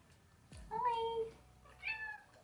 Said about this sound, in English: I also got a new cat.